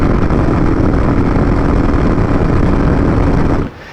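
A Royal Enfield motorcycle engine runs flat out at full RPM, topping out around 110 at top speed, giving a loud, steady drone mixed with wind rush that cuts off abruptly just before the end.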